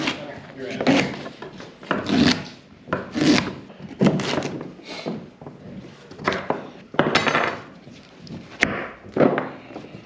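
A knife chops through fibrous horseradish root into small pieces on a wooden surface, giving irregular thumps and scraping rasps close by, with people talking over the cutting.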